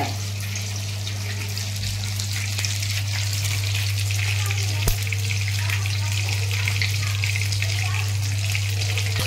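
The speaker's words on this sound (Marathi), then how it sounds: "आता आपली व्यवस्थित फ्राय मारून झाल्या" Tilapia pieces fry in oil in a home kitchen pan, giving a steady close sizzle with a low constant hum beneath and one sharp click partway through, with no talking.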